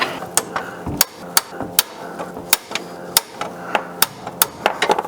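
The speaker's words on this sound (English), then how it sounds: "get a pry bar on the back, and hit it with the sledgehammer" A sledgehammer striking a pry bar under a 2005-2010 Chrysler 300 to knock a front CV axle loose from the transmission, sharp metallic clanks landing roughly every half second, close and echoing with faint shop noise.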